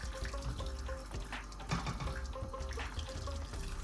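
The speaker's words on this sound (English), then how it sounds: "and then you add the water." Boiled water from a kettle is poured into a pan of coated chicken, giving a steady running splash and gurgle that continues throughout with faint kitchen clatter beneath.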